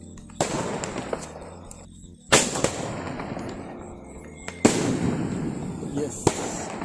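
Tarzan firecrackers burst for Diwali, three or four loud sharp bangs spaced a couple of seconds apart, each with a crackling tail, amid outdoor noise and voices in the background.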